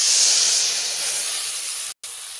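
Turmeric water hits hot oil in a kadai already holding cumin seeds, giving a loud, steady steam hiss that runs unbroken, cut by one brief dropout near the end.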